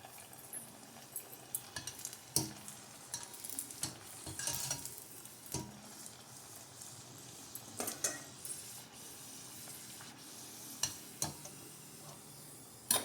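Jaggery gavvalu dough deep frying in hot oil: a steady soft sizzle runs throughout, with intermittent clinks and taps of a utensil stirring in the pan, fairly quiet and close.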